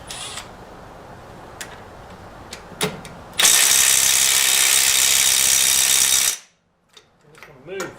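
An impact wrench spins a 21 mm metric socket on a lug nut of a 1980 Datsun 200SX: a loud, steady hammering burst lasting about three seconds after a few clicks, then a quick cutoff and faint movement.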